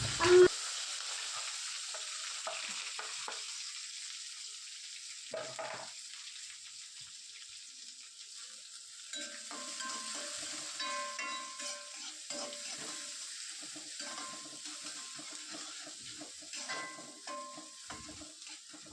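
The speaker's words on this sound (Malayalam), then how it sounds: "നമുക്കതിലോട്ട് ഒരു ഇച്ചിരി വെളിച്ചെണ്ണ ഒഴിച്ചിട്ട് സവോളയും പച്ചമുളകും കറിവേപ്പിലൊക്കെ ഒന്ന് വഴറ്റിയെടുക്കാം" Onion, green chilli and curry leaves sautéing in coconut oil, a soft sizzle broken by a loud clatter at the start, then scraping stirs and a fuller, steadier frying hiss.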